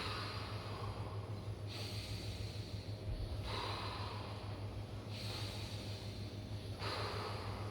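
Intense rhythmic breathwork during a morning meditation session at a Koh Samui retreat, steady forceful breaths cycling every couple of seconds over a constant low hum, continuous and fairly close.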